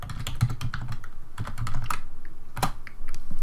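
Fingers type on a computer keyboard, a quick run of clicking keystrokes with uneven rhythm, close and alone without speech.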